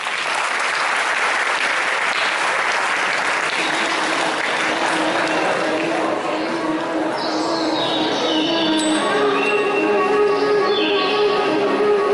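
Loud, sustained audience clapping at a school Hindi Divas celebration welcoming an author to the stage, dense and even throughout, with faint bird chirps coming through near the end.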